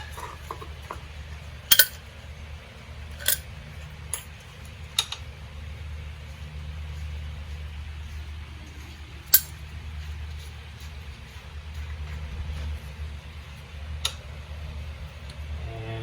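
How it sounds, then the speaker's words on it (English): A locking nut being removed from a trailer wheel hub gives a handful of sharp, isolated metallic clicks and ticks spread over a quiet, humming background, each tap brief and fairly close. "Remove your locking nut."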